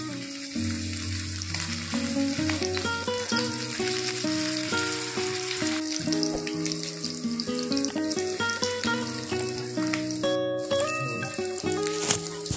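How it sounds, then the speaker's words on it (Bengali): Katla fish fritters fry in oil on a hot griddle with a steady, continuous sizzle under background music, with no talking. "তাওয়া গরম হয়ে গেছে, চামচ দিয়ে আমি এভাবে একটা একটা করে বড়া সাজিয়ে দিচ্ছি।"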